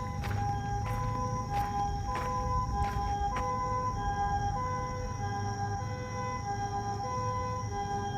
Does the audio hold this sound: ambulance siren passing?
yes